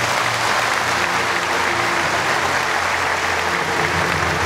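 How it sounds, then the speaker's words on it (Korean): Steady, dense applause from an audience at a state medal award ceremony for Istanbul's mayor, filling the whole stretch evenly without pause and with no talk over it. "여러분 다시 한번 축하의 박수를 보내주시기 바랍니다"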